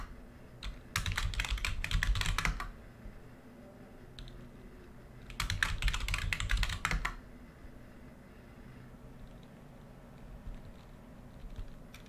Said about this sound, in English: making sure to actually type my password in correctly.